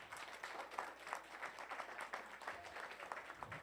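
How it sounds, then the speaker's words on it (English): An audience at a community Bible study gathering gives a round of applause, a faint, fairly distant, uneven clatter of many hands clapping for a few seconds. "So give yourself a round of applause for that."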